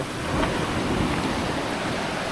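Strong sea waves surge and wash in a continuous, loud roar with no voices, the surf swelling briefly near the middle, heard on a boat trip at Tenby.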